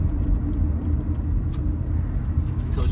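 A 1987 Mercedes-Benz 560SL drives along with a steady low engine and road rumble, close and continuous, with a few faint ticks and clicks over the top.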